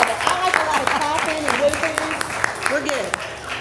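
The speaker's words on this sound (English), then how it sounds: "a lot of clapping and whooping" Crowd at a State of the City address applauding with whoops and shouted cheers, continuous clapping layered with vocal calls throughout.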